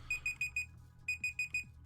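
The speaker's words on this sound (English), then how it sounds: "I set an alarm here so that I would know when to stop typing" An electronic alarm beeping in quick bursts of four sharp high tones, a short gap, then four more, clear and close in a quiet room.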